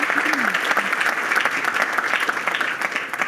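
An audience at a theater groundbreaking ceremony for the Zeiterion in downtown New Bedford bursts into dense, sustained clapping, loud and close, with a voice briefly audible at the start.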